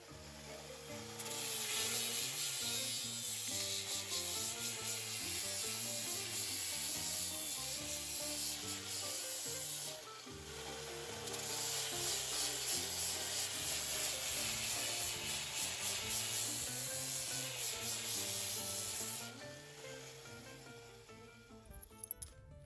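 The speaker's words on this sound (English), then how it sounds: "So I have to go through the sandpaper machine," Sanding machine smoothing the edges of mosaic pieces, a continuous close grinding rasp lasting over twenty seconds, with a brief dip midway and a small knock near the end.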